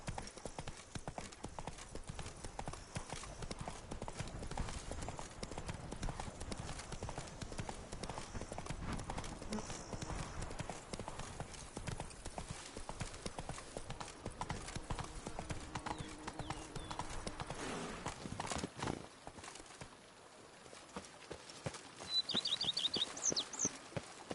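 Roach, a horse in The Witcher 3, galloping with rapid, continuous hoof clip-clops close up. The hooves thin out and fade near the end, and a brief high chirp appears.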